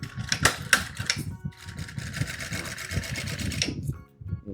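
Bursts of rapid, rhythmic needle chatter from a sewing machine stitching a seam while making a children's car organizer, running steadily in close, loud runs with brief pauses between them.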